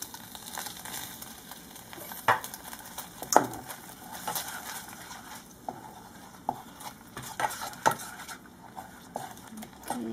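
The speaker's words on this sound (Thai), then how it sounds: "ผัดให้หอมก่อนนะคะ" Ingredients for a Thai cassia leaf and sato bean curry sizzle in a pan as they are stir-fried, with steady frying hiss and intermittent scraping and clinking of a utensil against the pan.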